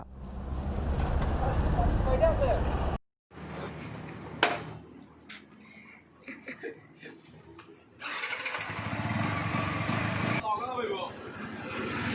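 Group ride on Yamaha R15 v3 motorcycles, engines rumbling up close at the start, then a quieter stretch with insect chirps and a sharp click before the engine roar returns, voices talking over parts of it.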